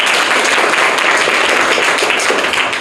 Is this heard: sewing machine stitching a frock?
no